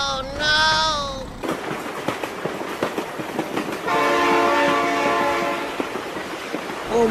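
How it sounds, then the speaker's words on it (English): A train in the BeamNG.drive driving game sounds its horn in loud sustained harmonic blasts, first briefly at the start and again for several seconds midway, over rumbling clatter of rolling rail cars. "Oh my god, train."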